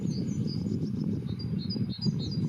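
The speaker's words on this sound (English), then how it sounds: "Birds singing everywhere down here." Small songbirds, blue tits among them, chirp and trill in short repeated phrases at middle distance outdoors in spring countryside, over a steady rustle of wind and ambient noise.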